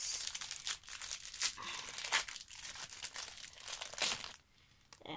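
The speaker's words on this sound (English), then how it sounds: "So, this is quite a quick pack opening." A Match Attax football trading card pack is torn and crinkled open up close, a run of sharp foil rips and rustles that stops abruptly near the end, no talking.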